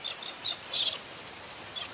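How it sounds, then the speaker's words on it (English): Cockatiels calling in the Australian outback after rain, several short chirping calls in quick succession over a soft background hiss. "And cockatiels celebrate with a rain dance."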